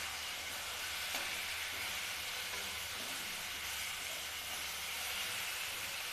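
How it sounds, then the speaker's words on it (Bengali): A fish head fries in hot oil until it turns red, giving off a continuous even sizzle and hiss with light stirring and no voices. "মাথাটা একদম লাল লাল করে ভেজে নিতে হবে"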